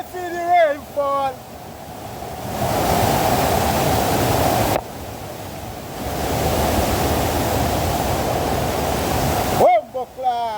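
Heavy rain and floodwater rush through a flooded backyard, a loud hissing roar in two long stretches, with brief talk at the start and end.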